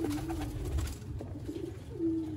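Teddy breed pigeons cooing in a pigeon-keeping loft in Sialkot, soft repeated low coos over a murmuring flock with a few flutters, fairly faint.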